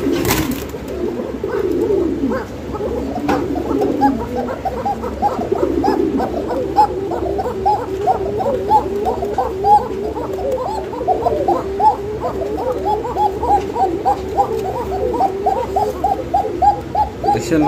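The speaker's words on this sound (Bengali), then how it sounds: "এই কবুতরটা কিরকম ডাকে আপনারা এখনই বুঝতে পারবেন" A fancy pigeon coos in a steady run of soft, throaty, repeated calls, close by and continuous, with faint background chatter.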